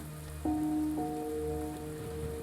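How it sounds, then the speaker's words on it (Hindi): Heavy rain pours down steadily through a dramatic film scene, and sustained musical tones play over the constant hiss. "इतनी बारिश हो रही है"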